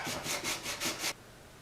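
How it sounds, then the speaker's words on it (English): Rhythmic back-and-forth sanding strokes of a fret leveling tool across marked guitar frets, about five close, even rasping passes that then stop, leaving quiet. "we're going to be sanding the black off of it"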